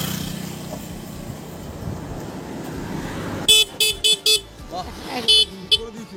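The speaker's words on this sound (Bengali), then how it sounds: "দেখি হর্নটা বাজে করে" A motorcycle horn, working again after a loose wire is reconnected, sounds in several short, loud toots in quick succession after a stretch of quieter background noise.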